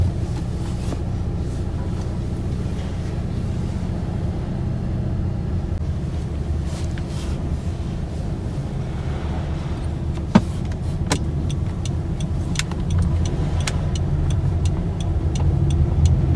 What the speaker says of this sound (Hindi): तो गाड़ी थोड़ी सी गर्म होने देते हैं।